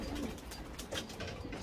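Racing pigeons coo softly at the loft as they return from an old bird race, a faint, low murmur of calls with no voices over it.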